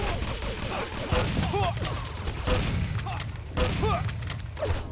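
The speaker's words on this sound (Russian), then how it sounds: "А вот сейчас вы увидите в действии квадовый дробовик Дэвила" A quad-damage shotgun fires in the Quake dm6 map during a deathmatch, heavy booming blasts repeating about every second and a half amid continuous game noise, explosions and thuds.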